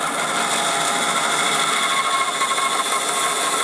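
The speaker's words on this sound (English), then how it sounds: "we're going to pop the bandsaw on, just lining it up with that cut there" A bandsaw running steadily while cutting a tight radius in wood, a continuous loud whining hiss with no breaks, close up and without talking.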